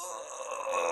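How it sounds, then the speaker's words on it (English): A single real human yawn, close and fairly loud, a drawn-out voiced groan lasting about a second that swells slightly toward the end. "Sorry, that was a real yawn there."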